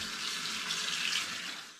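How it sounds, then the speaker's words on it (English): Water poured into the bottom of a pan during home brewing of sparkling perry from windfall pears, a steady hissing splash lasting under two seconds, close and fairly loud, tapering at the end, with no talk. "We'll add a bit of water now into the bottom."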